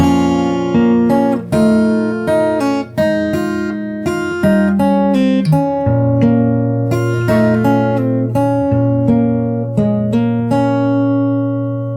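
A full round of a song's chorus on solo fingerstyle acoustic guitar, played close with a steady rhythm of plucked melody notes over ringing bass strings. No voice is heard.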